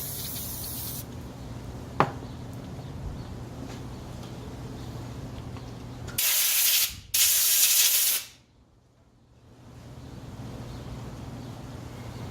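Brake cleaner is sprayed onto a bearing shell from a Ford AU Intech 4.0L engine: two close, loud hissing bursts of a couple of seconds each over a low steady hum, then near silence.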